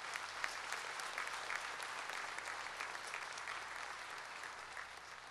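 Congregation applauding during an outdoor Easter Resurrection Mass in a town plaza, a soft, distant, continuous wash of many hands clapping without speech.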